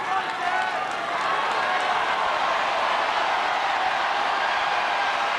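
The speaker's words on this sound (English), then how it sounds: "Listen to that crowd." Crowd noise at a Henman versus Philippoussis tennis match, a broad steady roar and murmur of a large stadium audience, loud and continuous throughout with no break.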